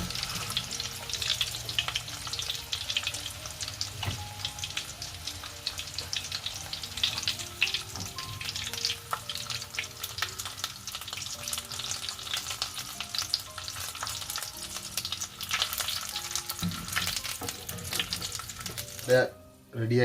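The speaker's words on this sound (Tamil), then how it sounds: "இனி வடை நல்லா பொரிஞ்சிட்டுது" Beef vadai deep-fry in hot oil, giving a steady crackling sizzle up close with scattered pops and bubbling throughout. A faint voice is heard briefly.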